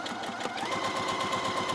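A sewing machine stitches through fabric with a quick, steady mechanical chatter, close up and alone for a short burst.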